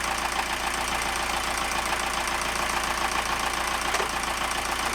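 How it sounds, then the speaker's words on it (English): A boat's engine idles at anchor in a harbour with a steady, even mechanical hum and a light knocking rhythm, moderately loud and close by; no one talks. "The engine seems to be working alright."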